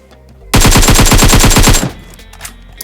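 Automatic rifle fire in the mobile battle royale PUBG Mobile, a loud sustained burst of rapid shots lasting over a second, then quieter game ambience with a faint click.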